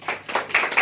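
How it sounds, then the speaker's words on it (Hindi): Audience clapping at a Hum Foundation Madhya Pradesh installation ceremony in Bhopal, heard as a short, close burst of several claps rising and falling in quick waves. "जोरदार तालियां"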